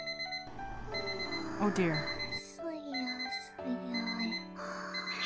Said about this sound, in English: Okay, shut up, alarm.